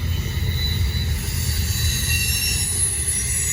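A Norfolk Southern freight train pulled by EMD locomotives passes nearby, with a continuous heavy low rumble of railcars, a faint squeal of steel wheels and steady rolling noise, loud and close, with no voices.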